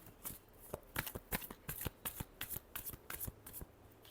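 Tarot cards are shuffled in a steady run of soft riffles and flicks, close and quiet, with no voices.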